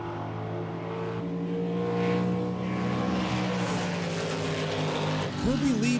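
A 1969 Buick California and a Mustang 289 at a small-block drag race, engines droning and rising in pitch under an announcer's commentary, with a revving surge toward the end.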